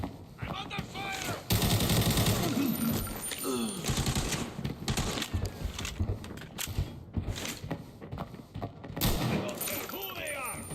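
Gunfire in the mobile shooter Arena Breakout: rapid bursts of automatic weapon fire and sharp single shots, some close and loud, others more distant, with clinking casings and metallic rattles between volleys and a voice shouting briefly.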